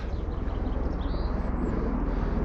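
Two RAF military helicopters pass overhead outdoors as a steady, loud, broadband rotor roar with a faint pulsing rhythm, continuous throughout with no talk.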